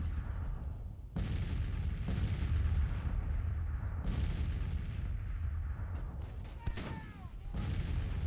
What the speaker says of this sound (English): Our artillery's doing a number on them up there.